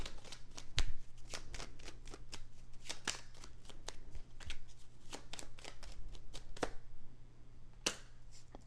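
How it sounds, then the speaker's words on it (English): Tarot cards being shuffled and pulled, with close, steady riffling and flicking of card stock, rapid snaps throughout and a few sharper slaps, no talking. "Let me pull one more card for that."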